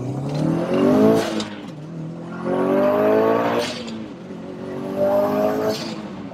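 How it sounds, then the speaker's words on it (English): Turbocharged JDM Subaru Impreza STI hatch with a 2.1 stroker engine making 420 bhp, accelerating hard off the mark: loud rising engine roar climbing through gears in repeated surges, heard close and without talk. "the moment the turbo spools up, it's spooling. And then as soon as it spools up, it's like, whoa"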